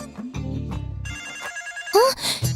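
A phone in a Malayalam film scene rings briefly with a short electronic trill near the end, close and clear, right after spoken dialogue.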